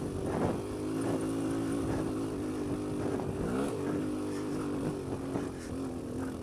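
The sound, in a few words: Kawasaki KLX140L dirt bike engine climbing a hill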